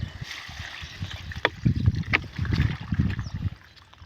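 Water poured by hand onto garden trees, drawn from a well and a barrel, gurgling and splashing in uneven bursts close by, with a few brief clatters.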